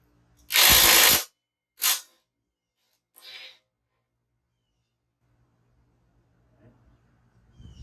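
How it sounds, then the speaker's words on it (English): Ratchet wrench driving a 22 millimeter socket on a Honda Goldwing front wheel: one loud sustained ratcheting burst, then a shorter burst and a faint third, followed by quiet room tone. "22 millimeter socket for this. Might be a little loud."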